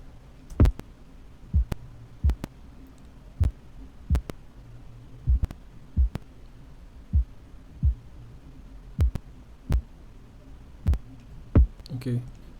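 Isolated punchy kick drum hits with deep 808 bass played in FL Studio, a sparse, evenly spaced series of about a dozen thumps over a low hum, moderately loud.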